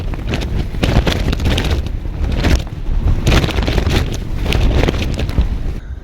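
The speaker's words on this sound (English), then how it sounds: "because it's horrendously windy" Strong gusts of wind on the moors buffet the microphone in loud, roaring surges with brief lulls, no voices present.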